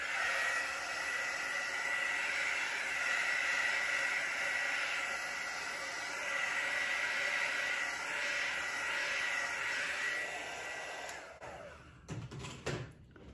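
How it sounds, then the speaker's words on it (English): A heat gun blows a steady hissing rush of air over a fluid art pour from a sink strainer, continuous and fairly close for about ten seconds before it cuts off with a few knocks. "Just going to give it a hit with the heat gun."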